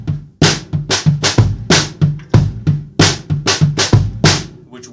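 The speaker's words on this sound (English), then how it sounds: "just literally moving the right hand to the floor tom would sound like this." Drum kit groove with the right hand moved from the cymbal to the floor tom, giving a steady pattern of deep tom hits and sharp snare cracks, loud and close, with no talking.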